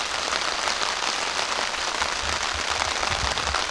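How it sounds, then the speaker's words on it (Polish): Light rain pattering steadily on surfaces outside a vegetable garden, a dense, even hiss of drops close by with no voices. "troszkę pada."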